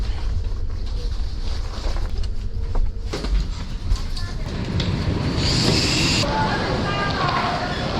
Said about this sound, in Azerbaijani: biz bura sürət qatarı ilə də gələ bilərdik, ancaq belə qatardan istifadə elədik